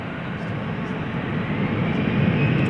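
American airliner on runway 18 left at DFW Airport at night, a steady, loud jet engine roar that holds constant and slightly swells throughout.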